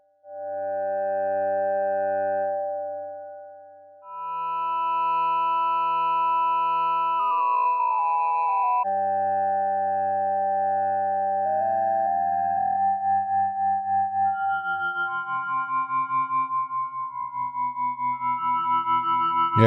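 A Synthstrom Deluge plays FM synthesis tones shaped by an LFO and reverb: sustained bell-like harmonic notes that glide and bend in pitch, with a pulsing wobble building toward the end, alone and fairly soft.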